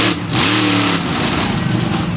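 General Tire monster truck engine roaring loud and close as it revs hard through a donut at an Indianapolis arena event, pitch rising and falling with throttle and a continuous gritty roar.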